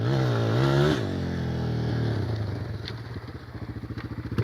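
Dirt bike engine revving hard at full throttle while stuck in mud, a loud close roar that rises and falls, then breaks into rapid pulsing bursts as the throttle is worked.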